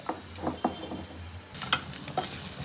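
Broad beans with green chillies and garlic cook in a pan for a bean mash, giving soft stirring and sizzling sounds with a few clinks. The sound grows brighter and louder partway through.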